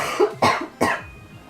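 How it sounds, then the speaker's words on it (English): Three quick coughs from one person, close and moderately loud, each a short harsh burst a few tenths of a second apart, followed by quiet room noise. "I need to cough."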